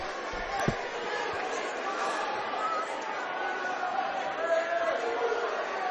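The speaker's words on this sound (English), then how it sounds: "That got the crowd going, though, didn't it?" Crowd at a boys' high school basketball game, a broad steady murmur of cheering and chatter in a gym, with a single thump early on.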